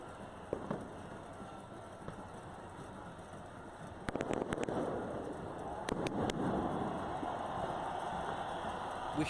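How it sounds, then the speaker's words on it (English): Distant fireworks or firecrackers during street protests in Chile crackle in a quick cluster of sharp pops over a steady crowd and traffic hum, with a few more bangs following. "so probably it's like fireworks or firecrackers."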